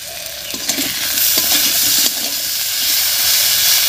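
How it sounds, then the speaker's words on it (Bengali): Potatoes fry in a pan for a tangra fish curry, producing a loud, continuous hiss and sizzle with a few soft stirring knocks, close up and without talk. "আলুটা বেশ ভাজা হয়ে গেছে"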